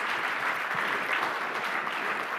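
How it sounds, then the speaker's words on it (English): Steady round of audience applause at a keynote event, an even, continuous patter of many hands clapping at moderate volume. "Give him a round of applause, everybody, please."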